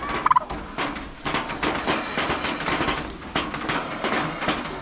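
Turkeys gobble over and over in a busy, dense chorus of bird calls, loud and continuous.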